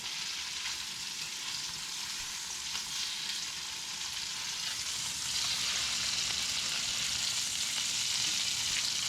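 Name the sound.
fish pieces browning in a cast iron skillet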